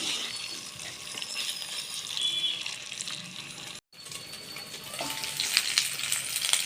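Pepper chicken sizzles in a pan as curry leaves are stirred through it, a close, steady frying hiss with crackles and utensil scrapes, broken by a brief silent gap midway; nobody speaks.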